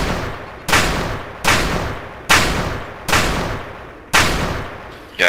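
Six loud, evenly spaced pistol shots ring out in a video game, DayZ, a mod for Arma 2, each a sharp blast with a long booming decay, about one every 0.8 seconds and with no talk.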